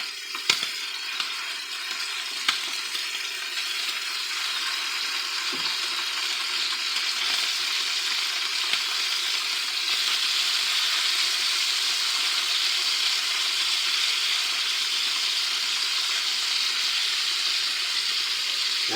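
Pork tenderloin browns in a frying pan with a steady, close hiss of sizzling fat that holds evenly throughout, broken by a few faint clicks and pops.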